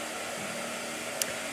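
A blow dryer runs steadily throughout as a continuous, fairly loud airy whoosh with a faint motor hum beneath, broken by one brief click near the end.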